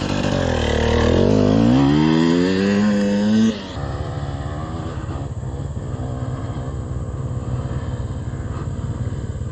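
Engine revving hard as a vehicle accelerates on the Burma Road, a loud rising roar that climbs in pitch, then drops abruptly into a steady, rougher drone, close to the listener.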